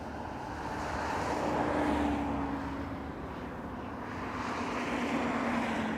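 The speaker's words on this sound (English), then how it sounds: "All right, that was Air India 777-300." An Air India Boeing 777-300 airliner at Toronto airport, heard as a steady, moderately distant jet engine roar that swells and fades gently over several seconds, with no talk over it.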